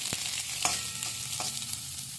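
Onion, capsicum and carrot stirred and fried in a pan for a crispy pasta spring roll filling: steady sizzling with a few distinct spatula scrapes and clicks, close and fairly loud, no voices.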